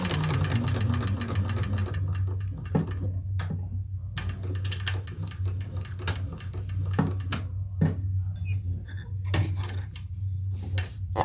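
A sewing machine stitching a leather tote, a rapid mechanical rattling hum in bursts that start and stop, with short pauses and a few clicks and clunks between runs, close and clear.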